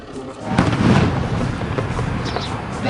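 Heavy booming blasts of artillery fire during a military firepower demonstration at the KK Range in Ahmednagar roll and rumble through the air, loud and sustained, with faint voices underneath.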